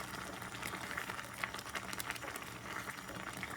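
Soondubu jjigae broth made with yuksu simmers in a pot, giving a faint, steady bubbling with soft irregular pops, heard alone without voices.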